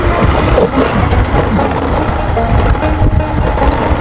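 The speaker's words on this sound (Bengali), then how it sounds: "রিস্ক নিয়ে বাইক চালানো হচ্ছে আর কি।" A motorbike engine drones steadily as it rides along a rough coastal village road in Shyamnagar, with a continuous loud rumble and wind noise and no pauses.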